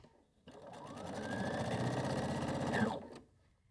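A sewing machine stitching fabric borders, laid right sides together and pinned, onto a pillow front; the motor whirs up from quiet, runs a steady rapid stitch for about two and a half seconds, then stops, close and alone.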